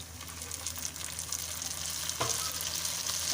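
Steady sizzling of chicken korma frying in a pan, with faint scraping of a spoon stirring, continuous and close, no voices.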